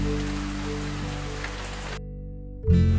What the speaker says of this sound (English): The rains came, and they came with a vengeance.